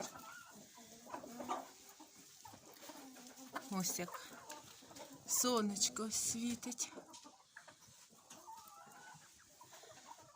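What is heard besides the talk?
chickens clucking around a henhouse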